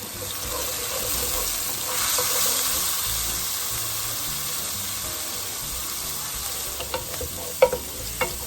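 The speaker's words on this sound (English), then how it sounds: "Cooking down some more peppers." Peppers and garlic cook in olive oil in a pan for baked ziti, giving a steady broad sizzle throughout with a few sharp utensil clicks and taps near the end.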